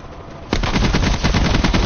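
Automatic gunfire in the multiplayer shooter game Blackout bursts in suddenly and keeps going as loud, rapid, close bursts with no talk over it.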